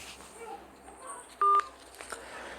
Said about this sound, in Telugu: అలివేలు చెల్లమ్మకి ఒకసారి ఫోన్ చేద్దాము